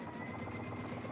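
A sewing machine stitches a long basting stitch on an apron, a close, steady, rapid mechanical whir with an even rhythmic pulse throughout the brief moment.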